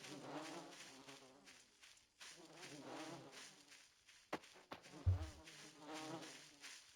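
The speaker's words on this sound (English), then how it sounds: "It's just the bees making noise." Bees buzzing around a beehive in the game Voices of the Void, a low, steady drone that swells and fades over several seconds, fairly faint, with a few brief knocks near the end.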